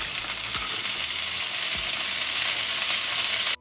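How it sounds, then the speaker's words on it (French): Onions, garlic and bell peppers fry in olive oil in a pan with a steady, loud, close sizzle and a couple of low knocks, then cut off abruptly at the end. "on fait revenir nos oignons et l'ail dans la poêle avec un peu d'huile d'olive"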